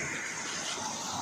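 Water released through dam gates at Sindhra dam rushing into a river, a loud, steady, close roar of gushing flow.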